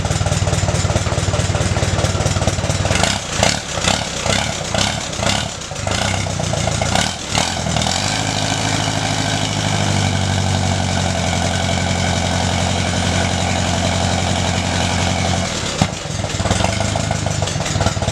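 An Allis Chalmers B tractor engine running rough with its fuel shut off, clattering and sputtering loudly up close, stumbling and surging, then settling into a lower, uneven idle.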